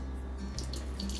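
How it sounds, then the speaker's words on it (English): Hot water poured out into a kitchen sink, a steady near splash and trickle with faint dripping, brief and alone. "I'll pour it out into the sink."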